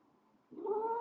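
A pet cat gives a short grumpy vocalization, quiet at first and then swelling into a louder, drawn-out moaning growl close by, with no talk over it.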